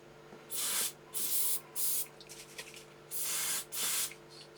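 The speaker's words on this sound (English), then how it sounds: "we'll see if we can just basically spray some in there and work them" Lubricant spray is squirted into a Defiant reel-to-reel tape recorder in five short, close hissing bursts, the first three spaced closely, then a pause before the last two, over a faint steady hum.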